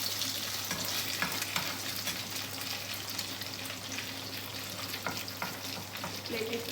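A stuffed chapathi roll roasts on a pan over a lowered flame, giving a steady close sizzle with soft crackles that continues throughout, and no one speaks.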